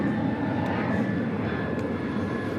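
Airliner taking off at DFW airport, a loud, close engine roar with a steady whine running through it, heard alone.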